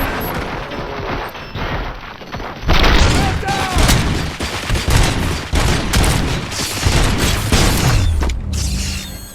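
Gunfire in RoboCop: Rogue City, loud bursts of rapid shots and mechanical clanks that start after a quieter lead-in and continue densely in an intense firefight, with a brief voice partway through.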